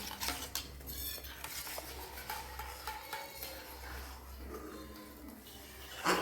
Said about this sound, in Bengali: এই বাটির মধ্যে দিয়ে গরম দুধে খুব সুন্দর করে মিক্সড করে নিচ্ছি